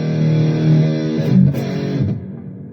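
An electric guitar played through the reverb setting of a Donner Arena2000 multi-effects pedal rings out with sustained, layered notes that trail off into a washy decay.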